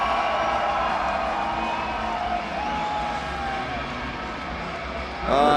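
An arena crowd at the Red Bull X-Fighters freestyle motocross final in Calgary cheers and whoops in a steady, sustained roar, with a commentator talking over it and a louder swell near the end.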